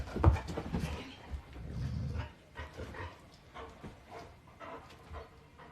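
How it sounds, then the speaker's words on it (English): Dogs growl and bark in a home during a live stream, a rough snarl up front followed by a run of short, muffled barks and grumbles that sound a little off from the microphone. "I know you're hearing my dogs in the background."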